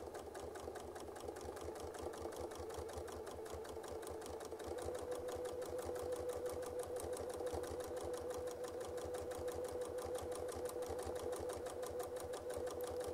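A sewing machine runs steadily through free-motion quilting, its rapid needle chatter continuing unbroken and close for the whole stretch, growing slightly louder partway through.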